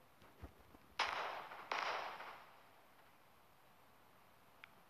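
Two sharp, loud bursts of gunfire in GTA 5 on a phone, shooting at a car, each trailing off in a noisy decay, preceded by faint low thumps and followed by quiet.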